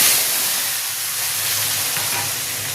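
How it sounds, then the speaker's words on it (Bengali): Potatoes fry in a pan of oil that was used for frying lentil fritters, giving a steady, close hiss and sizzle that continues evenly throughout with no talking. "আলুটা দিয়ে একটু ভাজা ভাজা করে মশলাটা দিয়ে দেবো।"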